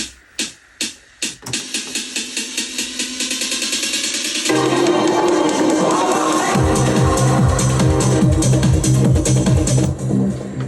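A snare roll starts with spaced hits and speeds up into a dense, rising build, then a loud electronic track with pounding bass kicks takes over.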